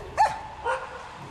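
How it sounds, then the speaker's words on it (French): Large dogs barking in a village: two short, moderately distant barks with a pause between, fairly faint against quiet background. "ce n'est pas le cri du coq qui dérange, mais les aboiements des chiens"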